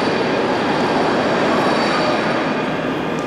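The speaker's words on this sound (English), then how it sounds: "Right down there is my train from Longniddry." A train at Edinburgh Waverley station, a steady, loud rumble of rolling stock and wheels on rails filling the whole moment with no pauses.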